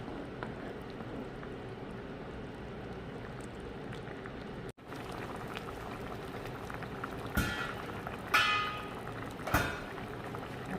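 A pot of mackerel braised with aged kimchi simmers with a steady low bubbling hiss throughout. A few brief clinks and a light metallic knock break in near the end.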